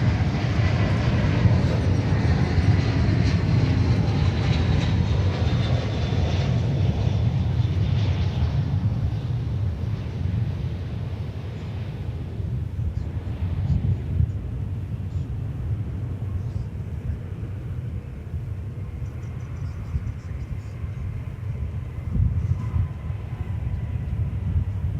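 An American Airlines Airbus A321 from Seattle arrives at Dallas Fort Worth airport with a loud, steady, deep jet roar that holds for the whole stretch and eases slightly toward the end.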